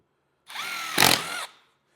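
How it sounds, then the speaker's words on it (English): A Milwaukee drill with a 3/8 inch bit whirs up, bites into the workpiece in a louder, grinding burst midway, then spins down after about a second, close and alone, while drilling holes for installing Harley-Davidson speaker cut kits. "I've got a 3/8 bit here in my Milwaukee drill, and we're just going to"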